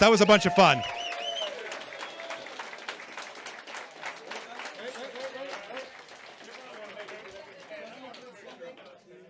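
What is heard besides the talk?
audience applause for quiz show winners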